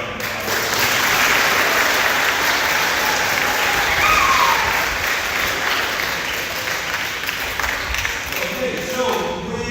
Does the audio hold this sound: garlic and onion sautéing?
no